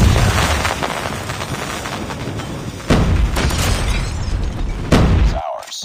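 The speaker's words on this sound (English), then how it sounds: "Enemy airstrike incoming." Heavy booming explosions from an enemy airstrike in the Call of Duty Mobile Hardpoint mode, with dense rumbling blasts throughout and sharper impacts standing out near the middle and end, ending in a sudden cutoff.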